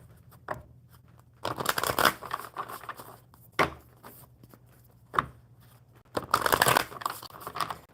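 Oracle cards from a crow deck are shuffled by hand during a live stream, two bursts of riffling and rustling card stock separated by quieter taps and soft handling noises, close to the microphone.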